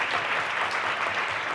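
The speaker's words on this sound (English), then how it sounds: "Yes, I didn't expect so much applause." A conference keynote audience applauds steadily and loudly, a dense wash of many hands clapping throughout without any voices.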